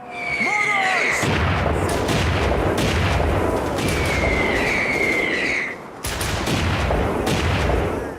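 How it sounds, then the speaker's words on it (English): Mortar explosions in the PS3 shooter Haze, a dense barrage of booming blasts and crackling gunfire layered over one another, loud and continuous with a brief lull near the end. "I like how the mortars apparently make the same sound that the landmines do."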